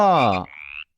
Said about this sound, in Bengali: ব্যাং